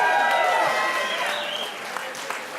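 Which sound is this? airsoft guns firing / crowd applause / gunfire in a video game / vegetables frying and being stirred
crowd applause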